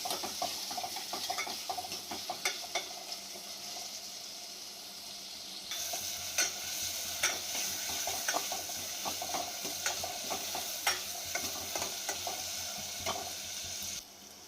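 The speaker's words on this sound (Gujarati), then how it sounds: "હવે આપણે ઝીણી સમારેલી ડુંગળી અને ટામેટા નાખીશું અને આપણે તેને બરોબર સાંતળી લઈશું" Finely chopped onion and tomato sauté in a pan for dal tadka, giving a soft, continuous sizzle with clinks and scrapes of a spoon stirring against the metal, fairly quiet and close, with no talking.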